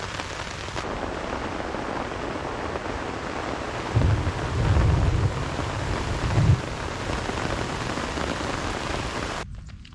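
Torrential rain pours steadily during a thunderstorm at a camping spot, a loud, constant hiss with a deep rumble of thunder swelling in the middle before the downpour carries on.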